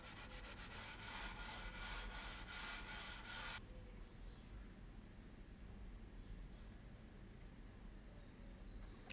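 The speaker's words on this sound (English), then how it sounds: "making a compound radius with sanding blocks" Sanding blocks rub across a wooden guitar fretboard to shape a compound radius on a seven-string guitar, in a quick series of close, rhythmic strokes that stop abruptly, leaving quiet room tone.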